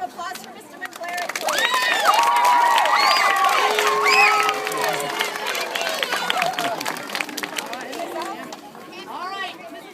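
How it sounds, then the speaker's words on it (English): At an opening ceremony, a crowd cheers and shouts, with high excited voices and children calling out over a general babble that swells and then settles. "a round of applause for Mr. McClary"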